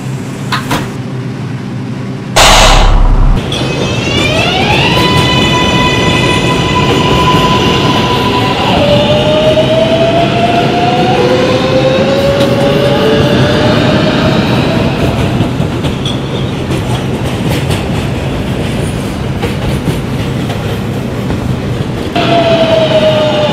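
A Manhattan-bound 6 subway train runs loudly and continuously, with rising and falling motor whine tones over steady rumble and clatter, and a sharp burst near the start.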